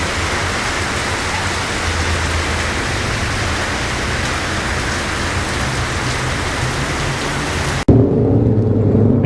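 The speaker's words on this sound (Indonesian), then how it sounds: "Hujan lagi mas bro," Heavy rain pours down steadily around a Yamaha Vixion motorcycle on a solo ride toward Citorek, a loud, dense hiss of drops that continues throughout, with a sudden change in tone near the end.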